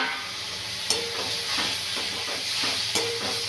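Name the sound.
stirring methi bhaji in the pan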